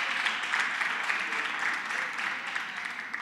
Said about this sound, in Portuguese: Uma salva de palmas para descontrair,